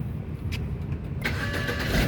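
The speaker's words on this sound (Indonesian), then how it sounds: "Nah, coba kita nyalakan dulu mobil." A 2006 BMW 320i E90 with a 2.0-litre engine and automatic gearbox starts up, a short crank giving way to a steady mid-pitched idle that settles in close and fairly loud, with no talking.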